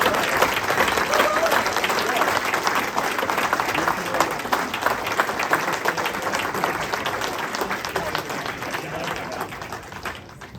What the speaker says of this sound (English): I hope you all give me a huge round of applause for John